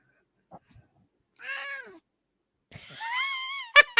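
Pet cats meowing indoors: a short chirp, then a rising meow, then a longer drawn-out meow, all close and clear against near silence, with no talking.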